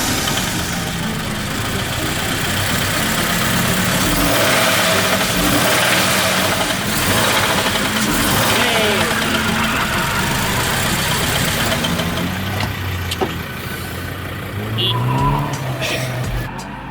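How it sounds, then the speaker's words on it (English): A Toyota 86 engine revs hard and strains as it fails, a loud, continuous roar with rising and falling pitch and harsh, ragged tones, close, with brief voices underneath near the end. "I think the engine's not doing it."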